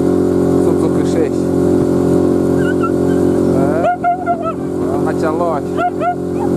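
A steady droning Suzuki 6 outboard boat motor runs throughout at close range on a heavily loaded boat, with faint chirping voices or birds breaking in near the end.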